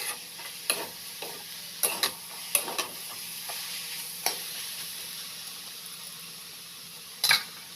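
A soft, steady sizzle of food frying in a pan with a little oil, broken by a few light scraping clicks of stirring.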